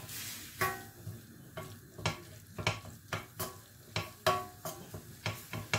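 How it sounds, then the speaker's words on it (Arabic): Vegetables for vegetable bourek fry in oil in a pan, with stirring or utensil clinks breaking up the steady low sizzle into a series of sharp ticks roughly every half second. "فوالا هنايا نخليهم يتقلاو"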